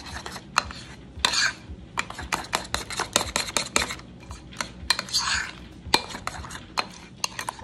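A spoon scrapes and clinks inside a bowl, mixing Chebe powder into leave-in conditioner and oil: quick, uneven taps and rasping strokes up close, with no talk over them.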